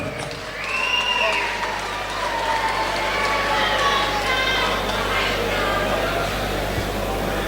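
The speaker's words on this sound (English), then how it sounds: "Once again, a round of applause for our guys runner-up." A crowd applauds the runner-up at a Thai K1 kickboxing fight, a steady wash of clapping and cheering that swells after the first second and holds loud to the end, with an amplified voice ringing over it.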